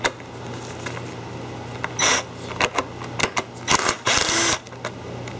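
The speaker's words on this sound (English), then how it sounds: "we're gonna go ahead and put our 3/8-inch socket on our extension and remove these now." A 3/8-inch socket wrench on an extension removes screws from a compressor valve plate assembly, giving close metallic clicks and ratcheting bursts over a steady background hum.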